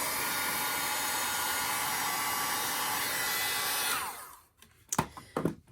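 A craft heat tool blows hot air over stamped cardstock in a loud, steady whooshing whine for about four seconds, then winds down and stops, followed by a few soft handling knocks.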